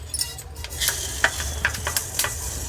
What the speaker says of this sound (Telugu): ఎంతసేపు వేగుతాయండి నువ్వులు, అంతే వేగినాయి చూడండి